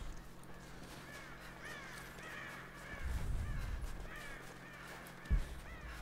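Crows caw in Rise of the Tomb Raider, a game set in the wild, with repeated harsh calls over a low ambient bed and a brief thud near the end.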